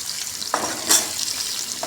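Onions and potatoes fry in a pan with a continuous bright sizzle, a couple of louder bursts as pieces are stirred and turned, close and clear with no talk.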